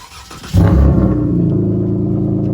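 A V6 Mopar car engine cranks and fires up close by, then settles into a deep, steady idle rumble.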